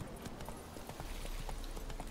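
Galloping hooves of a panicking horse in The Witcher 3, a steady rapid clip-clop rhythm over a busy game soundscape, fairly loud and continuous with no talk.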